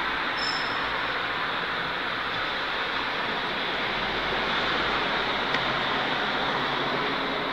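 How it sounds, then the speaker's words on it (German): An early-morning U-Bahn subway train passes, heard as a sustained, even rushing roar with a low rumble underneath that holds steady throughout, fairly close. "Da fährt die erste U-Bahn."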